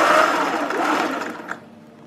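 A sewing machine runs steadily while stitching the side gussets of a fabric dress, a close, continuous whirring hum that slows and fades near the end with a brief click.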